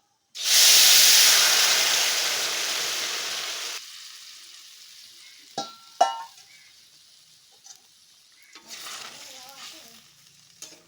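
Fish curry poured into hot oil with nigella seeds, bursting into a loud, bright sizzle that fades over a few seconds, followed by scattered clinks and stirring noises close by.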